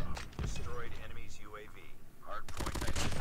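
Rapid automatic fire from a CBR gun in a shooting video game, bursts of shots at the start and a dense volley near the end, with a voice talking excitedly over the gameplay.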